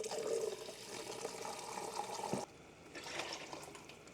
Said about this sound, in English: We'll add a little bit of water.